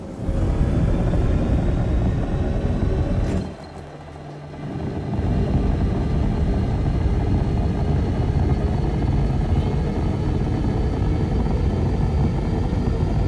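A spaceship lifts off in a video game as a steady, loud engine roar with a broad rumbling wash, which briefly drops to a quieter hum before surging back and holding strong.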